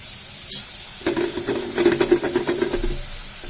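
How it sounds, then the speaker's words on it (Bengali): French fries fry in hot oil: after a quiet start and a single knock, a bubbling sizzle swells up close with sputtering bursts and stirring, then settles. "একটু সুন্দর করে ভেজে তারপর নামিয়ে নেব।"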